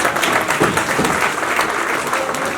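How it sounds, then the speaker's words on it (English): Audience at an entrepreneurship awareness programme applauding, steady dense clapping filling the room throughout without a break. "So big round of applause for them,"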